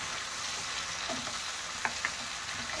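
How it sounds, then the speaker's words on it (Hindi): Roughly chopped tomatoes are stirred in a hot frying pan, a constant sizzle with a few soft scraping and squelching strokes late on, close and steady without speech. "अब इसमें कर देंगे रफली चॉप्ड किए हुए टमाटर ऐड और इनको भी मिक्स कर लेंगे"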